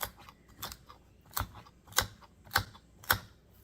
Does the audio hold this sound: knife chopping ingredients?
yes